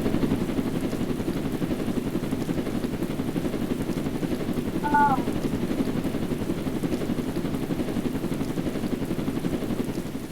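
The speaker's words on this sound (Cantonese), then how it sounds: "唔好射直升機啊！" Helicopter in the Roblox Jailbreak video game, a steady, droning rotor-and-engine hum held at an even level throughout, with one brief chirp near the middle.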